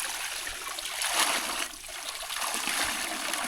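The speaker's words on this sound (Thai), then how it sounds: "น้ำไหลบ่ขาดเลย" A mountain stream beside a remote village in the hills of Laos runs without pause, a soft steady trickle and splash heard close by with no voices.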